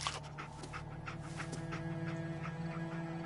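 Dogmeat, the dog companion in Fallout 4, panting steadily in quick rhythmic breaths with faint whimpers, close but quiet over a low steady game hum.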